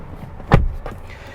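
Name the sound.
rear door of 2021 Hyundai Santa Fe being shut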